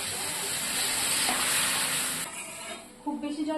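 Chicken sizzling hard in a pan, a loud close fry and hiss, until water goes in and the noise drops sharply to a softer bubbling, with a brief voice near the end.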